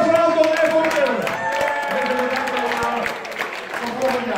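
Studio audience applause at a Dutch weekly comedy show, a dense steady wash of clapping with cheering and music-like tones mixed in, lasting throughout.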